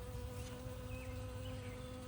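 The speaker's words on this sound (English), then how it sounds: "Oh, that's a honeybee right there." Honeybee buzzing among poppies in a summer garden, a steady, fairly faint drone that holds on without a break.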